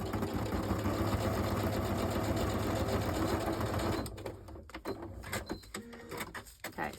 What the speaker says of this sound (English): I'll just go over to the side and sew that top bit down.